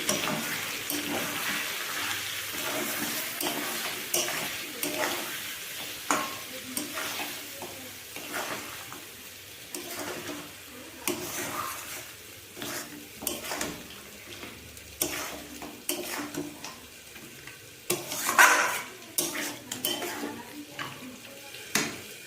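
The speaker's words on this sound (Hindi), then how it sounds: "अब हम मसाले को अच्छे से पकाएंगे यानी भूनेंगे" Steady sizzling of spice paste frying in a pan for Bengali-style potato mutton curry, with a spoon repeatedly scraping and clinking against the metal, close up and continuous.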